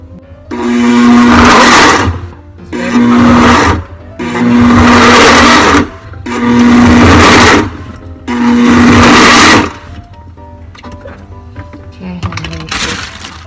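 A blender crushes mango and baby carrots for a smoothie in five loud, close bursts of a couple of seconds each, with brief pauses between them and rattling, cracking chunks, followed by quieter handling noise.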